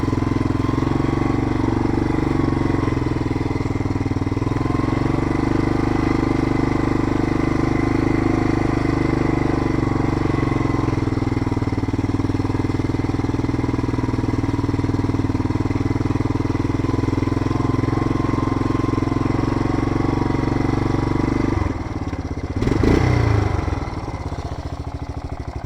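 A Yamaha Big Bear 350 ATV engine drones steadily at normal riding speed, loud and close for the whole stretch, with a brief rough burst of throttle or clatter near the end.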